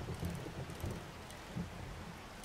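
Steady rain and low rumbling thunder in the video game 7 Days to Die, a faint continuous wash of rainfall with soft rolling booms underneath.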